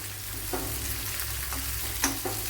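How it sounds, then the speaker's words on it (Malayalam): Jackfruit stir-frying in a pan, a steady low sizzle with a few brief scraping stirs of a spatula against the metal, close and moderately loud, with no voices. "അപ്പോൾ ഇതിനെ ഇനി നല്ലപോലെ ഒന്ന് മൂപ്പിച്ചെടുക്കണം"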